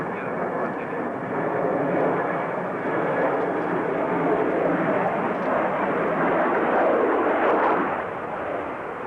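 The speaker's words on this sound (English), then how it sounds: "Le Concorde est en cours d'atterrissage." The Concorde 001 supersonic prototype airliner lands with a broad, sustained jet roar that swells and eases over about nine seconds, with a voice speaking over it.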